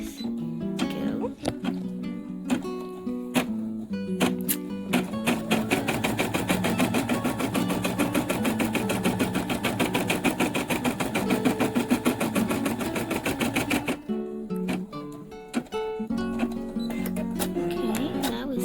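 Embroidery machine stitching the eye-hole outline of an in-the-hoop snap tab keychain, a fast steady rapid needle rattle running continuously for about nine seconds between shorter start-stop bursts, loud and close.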